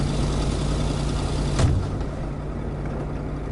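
A loud truck engine in a snowy, freezing-cold video game rumbles steadily and close, with one brief sharp knock partway through.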